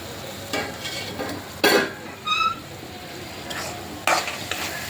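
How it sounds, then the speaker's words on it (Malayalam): Shark skin and head curry stirred in a hot pan, with a steady soft sizzle under repeated scraping strokes of a spoon, a few louder clinks against the metal. "ഒന്നും കൂടെ ഇളക്കുക"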